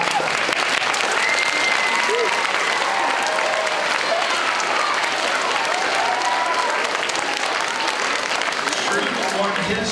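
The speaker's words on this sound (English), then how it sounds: "let's give him a round of applause." Sustained applause from a school assembly audience at an elementary school, dense steady clapping filling the hall for the whole stretch with no break.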